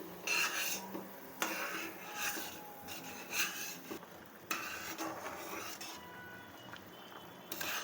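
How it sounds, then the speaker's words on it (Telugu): A spoon stirs semiya and sago payasam in a pot, making repeated soft scraping and rasping strokes against the metal at an uneven rhythm, fairly quiet and close, with no voices. "మధ్యలో ఇట్లా కలుపుకుంటూ ఉండాలి."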